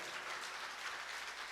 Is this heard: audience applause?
yes